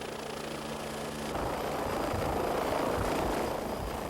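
A helicopter ferrying a donor heart for a long-distance transplant drones steadily with a broad rotor roar, fairly distant and even, growing slightly fuller midway.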